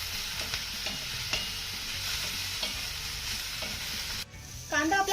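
Ingredients sautéing in a pan before chopped tomato goes in: steady oil sizzle with a spatula stirring and scraping in irregular strokes, close and continuous, ending in a brief louder clatter.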